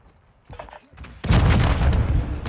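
Heavy gunfire and booming blasts in Call of Duty: Modern Warfare II, starting with scattered thumps and then bursting into a loud, dense barrage of shots that continues to the end.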